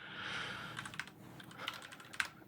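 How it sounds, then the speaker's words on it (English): A short command typed on a computer keyboard at a Linux terminal: a handful of crisp, close key clicks in quick succession over a faint hiss, with no voices. "I'm going to type clear to clear the screen."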